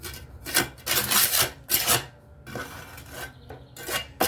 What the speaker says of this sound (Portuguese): Aqui em cima do acabamento com a colher.